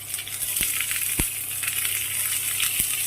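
Carrots and green chilies frying in a pan for Hakka noodles, giving a continuous hissing sizzle with three sharp metallic clinks from a utensil scattered through it.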